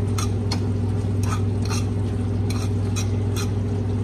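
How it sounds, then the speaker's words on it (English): Burrito filling being stirred in a pan, with a run of quick scraping strokes over a loud constant low hum and faint sizzle. "Stir, stir, stir."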